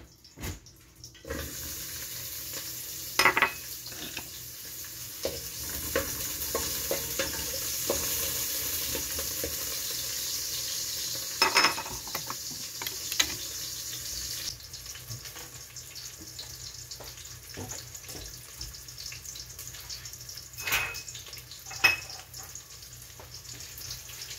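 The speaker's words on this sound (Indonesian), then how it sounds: "Ini tumis dulu bawang merah dan bawang putih." Shallots and garlic fry in hot oil in a home kitchen, a faint steady sizzle with occasional stirring clinks and scrapes, loudest in the middle and thinning toward the end.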